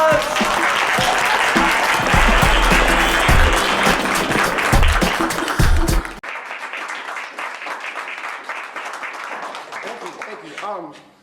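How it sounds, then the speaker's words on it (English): A live audience at a poetry event applauds loudly with dense, sustained clapping that drops sharply halfway through and then carries on more quietly before fading out. "Round of applause."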